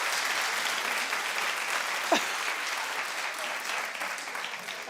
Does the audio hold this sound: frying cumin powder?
no